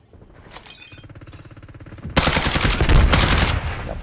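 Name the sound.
gunfire in a video game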